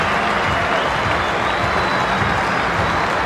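At a cricket Test match in Australia, the home-ground crowd applauds a batsman reaching his fifty with dense, sustained clapping and some cheering, loud and continuous throughout.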